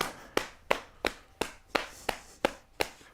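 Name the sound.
hands clapping and smacking the sides of the foot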